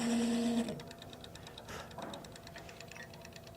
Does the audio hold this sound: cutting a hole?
yes